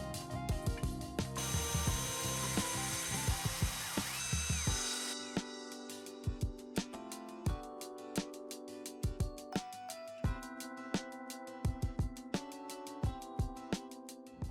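A go-kart build with metal being cut and extra wheels attached: a loud, hissing cutting noise dominates the first few seconds, then a ratchet clicks in a steady repeated rhythm of short sharp bursts, close and without talk.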